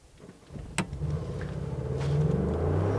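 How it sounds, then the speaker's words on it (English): A 2018 Mercedes-Benz G550 launches hard from a standstill, its engine rumbling up after a sharp click and climbing steadily in revs. The sound is close and grows louder with no speech. "let's floor it from a stop here"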